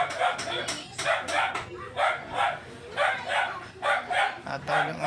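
A dog barks in a quick, repeated run of yelps and bow-wows with brief pauses, fairly faint against background noise, with a bird calling in the mix.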